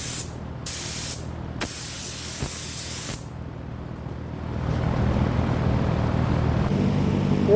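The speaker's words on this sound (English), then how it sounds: "Made some tweaks, and it looks like it's spraying better." An Aeropro A610 paint spray gun hisses in short bursts, then a longer steady spray, close up, with a low motor hum underneath that grows louder toward the end.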